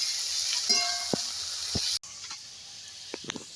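Chopped taro stems sizzle with onion in a hot pan, a bright steady frying hiss with a few scraping stirs, cut off abruptly halfway and followed by quieter clinks and stirring.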